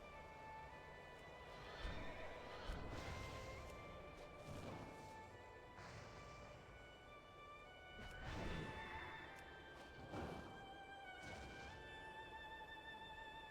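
A horse in World of Warcraft neighs and whinnies several times in loud bursts, with hoof clip-clops and thuds mixed in, no talking.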